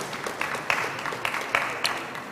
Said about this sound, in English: Round of applause for Herbert